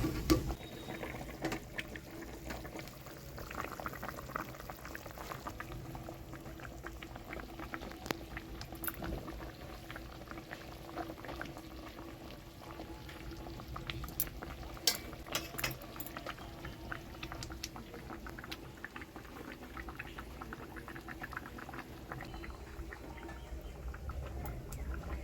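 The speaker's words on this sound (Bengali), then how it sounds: "টকবক করে ফুটছে" Yogurt katla fish curry gravy boils in a pan with potatoes, a faint, steady bubbling and popping that crackles on without pause.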